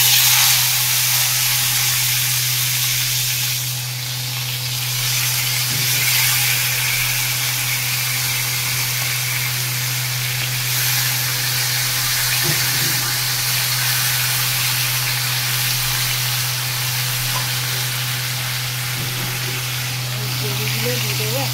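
Hilsa fish pieces frying in hot oil tempered with black cumin (nigella) seeds, giving a steady, fairly loud hiss and sizzle that runs throughout over a low constant hum.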